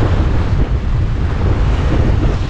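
Strong wind buffeting the microphone over choppy sea aboard a sailboat off Jersey, wind against current, a loud continuous roar with rushing water throughout.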